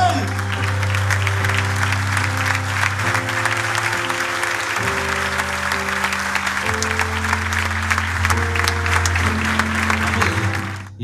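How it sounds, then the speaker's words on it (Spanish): A studio audience on a Cadena 13 television show applauds for actor Carlos Bocha Houriet, continuous clapping for about eleven seconds beneath loud, sustained background music. "Fuerte el aplauso para él."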